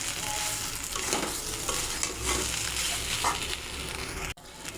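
A spoon scrapes and stirs through a sizzling pan of fish head and cabbage ghonto finished with ghee, repeated scraping strokes over a steady fry, close up and alone.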